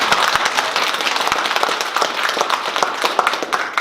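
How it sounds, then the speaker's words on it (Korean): Applause from a church congregation during a Sunday service, a dense steady patter of many hands clapping together for the full stretch, close and fairly loud, with no talk over it. "그리고 서로에게 격려의 박수를"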